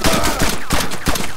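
Loud gunfire in the survival game DayZ Standalone comes as rapid, close bursts of shots in a dense volley with only brief gaps.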